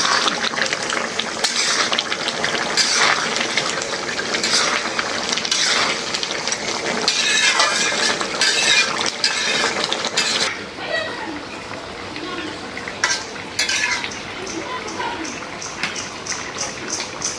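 A shrimp and potato curry with malabar spinach is stirred in a pan as it simmers: a continuous bubbling, watery sizzle with intermittent scraping strokes. A person talks over it throughout.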